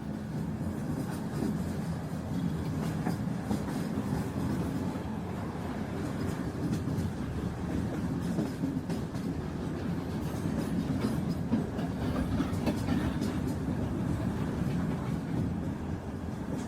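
A passenger train rolls through the hills and valleys of Sri Lanka's hill country, heard from on board. A continuous low rumble and rattle of the carriages holds steady throughout at even loudness, with no talking.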